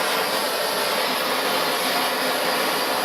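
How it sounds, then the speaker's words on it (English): Blowtorch heating an old door glass seal on a Lotus Elan M100, a steady close roaring hiss held throughout without a break or voices. "heat it up with the blowtorch until it catches light and softens"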